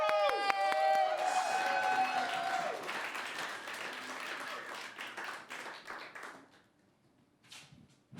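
An audience at a late-night comedy and music show claps and applauds as a final musical chord rings out, the steady clapping carrying on for several seconds before thinning and fading away.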